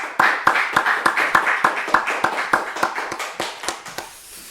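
A Korean church congregation at a Sunday afternoon service gives a round of applause to God, a loud, rhythmic clapping in sharp, evenly spaced beats that gradually fades out, close and with no talk over it.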